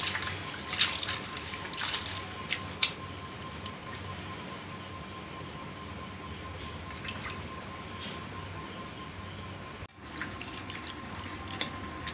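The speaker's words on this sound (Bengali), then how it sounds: "এবার সুন্দর করে এটাকে আমি আরেকবার ধুয়ে নেব। ভালো করে একটু এইভাবে ডুলে ডুলে নেবেন" Peeled jackfruit seeds being washed and swished in water in a bowl, with steady splashing and dripping close by, a few sharper clinks early on and a brief pause near the end.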